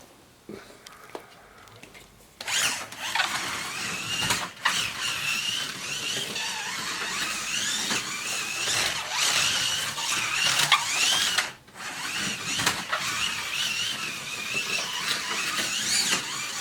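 A slot car on a home track whines around the circuit with a rising and falling electric motor squeal, close and continuous, broken by a couple of brief drops in sound.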